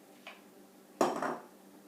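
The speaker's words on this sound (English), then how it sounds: "I'm using the little spatula to clean the bowls" A small spatula knocks and scrapes inside a mixing bowl during scone making, one faint tap and then a sharper scrape that fades quickly in a quiet room.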